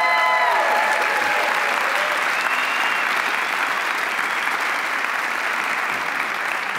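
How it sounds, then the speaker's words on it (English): Audience applause at a mayor's State of the City address, dense and sustained clapping from a large crowd that carries steadily for several seconds and eases only slightly toward the end. "you don't have to applaud if you don't want to"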